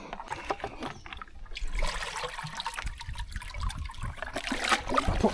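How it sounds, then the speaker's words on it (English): Water splashes and trickles into a bucket outdoors while catching yabbies and freshwater shrimp, an uneven pouring sound of moderate loudness, with no talking. "Put plenty of water in there."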